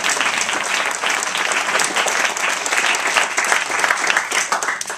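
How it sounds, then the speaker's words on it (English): Loud, dense audience applause for filmmaker Alexandra Pelosi at a live talk event, a continuous wash of many hands clapping at full strength throughout, with no voices standing out. "A round of applause for Alexandra Pelosi."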